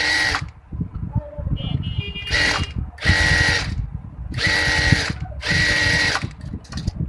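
A sewing machine stitches the hem of a skirt palazzo in five short, loud bursts of rapid rattling separated by brief pauses, with a voice murmuring underneath.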